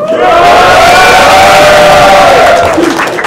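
A live rap battle audience at a Punchoutbattles event roars and cheers loudly, a dense crowd of shouts and whoops sustained for a few seconds before tailing off.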